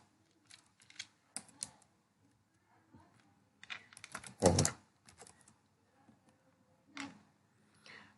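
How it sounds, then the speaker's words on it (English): Bursts of keyboard typing, quick clusters of clicks with pauses between, one louder flurry in the middle, fairly close and otherwise quiet. "I am typing here in a new session"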